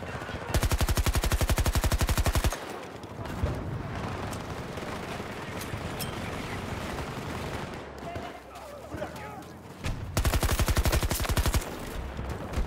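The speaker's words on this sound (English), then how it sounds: "it's so hard to control this gun" Rapid automatic gunfire from a hard-to-control gun in Battlefield 2042, loud close bursts at the start and again near the end, with a noisy stretch of battle sounds in between.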